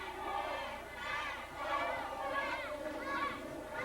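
Wrestling crowd at an NWA Wildside show cheering steadily for Lazz after a near pin on Air Paris, a dense continuous roar of many voices with rising and falling swells and no break.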